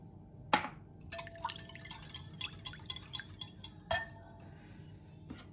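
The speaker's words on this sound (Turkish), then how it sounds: "Daha sonra sütümü ekliyorum." Milk poured into a bowl of whisked egg for date pancakes, with a quiet splashing pour, soft liquid trickles, and light clinks of a bowl and utensil in a calm kitchen.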